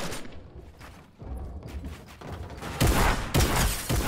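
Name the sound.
gunshots in the video game Fortnite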